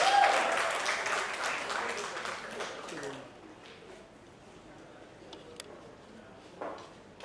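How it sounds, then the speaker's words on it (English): Audience applause at a book launch event, a moderate round of clapping that fades out after about three seconds, leaving a quiet room with a few faint knocks. "please a round of applause for Trisha Das."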